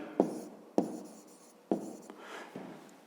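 Pen or chalk writing out a fifth-grade math solution for a rectangle's area, three sharp tapping strokes followed by scratchy scribbling, close and quiet with no talking.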